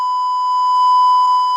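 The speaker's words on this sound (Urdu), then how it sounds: "اتنے بیپ لگائے گئے" A censorship bleep over talk show audio: a loud, continuous pure tone held steadily, with no voices audible.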